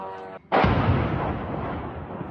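A single heavy blast booms out after a brief tone, followed by a long rumbling roar that slowly fades, loud and distant.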